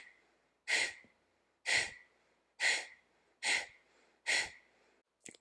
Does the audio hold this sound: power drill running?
no